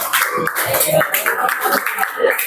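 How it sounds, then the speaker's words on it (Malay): Students in a classroom clapping for a group's correct answer, an uneven burst of clapping with chatter and voices mixed in throughout. "Berikan tepukan yang paling gemuruh."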